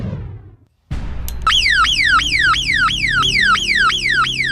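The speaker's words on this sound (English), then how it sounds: "this sounds like a car alarm maybe 3 or 4 streets away" A car alarm wails in a rapid run of repeating rising-and-falling sweeps, loud and steady, starting after a brief silent gap that follows some low rumbling noise.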